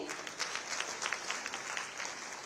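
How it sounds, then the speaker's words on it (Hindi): An audience claps steadily for small children at an annaprashan first-feeding ceremony at a public event in Mathura, a dense, fairly faint patter of many hands that holds evenly throughout with no voices on top. "आप सभी तालियां बजाएं हमारे इन बच्चों के लिए"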